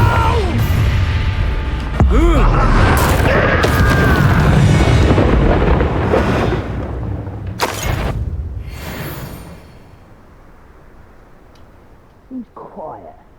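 Hogwarts Legacy spell combat with the Confringo blasting spell, a deep rumbling explosion and crashing magic impacts that stay loud for several seconds before fading to quiet, with spoken dialogue and spell shouts over it.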